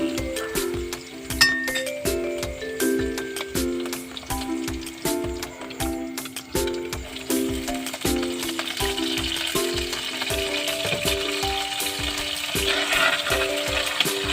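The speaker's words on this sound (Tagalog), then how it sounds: "Pag umabot ng golden brown ay saka na natin ilunod yung itlog na may sayote." Egg mixed with chayote and chili sizzles in a frying pan, a steady crackling hiss under bright melodic background music with chiming notes.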